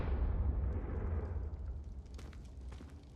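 Confringo fire spell blast in Hogwarts Legacy, a deep rumbling explosion loud and close at the start, its roar fading over a few seconds with crackling debris scattering in the tail.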